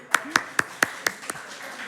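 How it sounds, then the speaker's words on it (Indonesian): Brief round of applause in a youth church service: six sharp, evenly spaced claps ringing out in a hall, fairly close, with a faint voice underneath. "tepuk tangan untuk Kak Febri"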